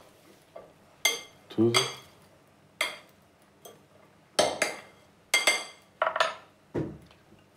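Black-eyed bean salad with feta and cucumber being tossed in a bowl, a series of separate clinks and scrapes of utensil against dish, fairly close, with a brief word spoken.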